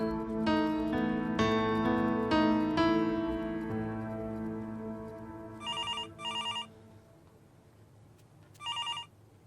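A telephone rings in short electronic bursts, two close together and then another after a pause, after a sustained piano-like music passage fades out.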